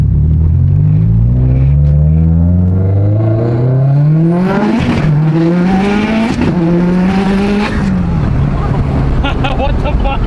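A stock-block Subaru STI engine revs hard on a dyno, roaring loud and close as it climbs steadily through a long pull, then drops briefly and surges again before settling.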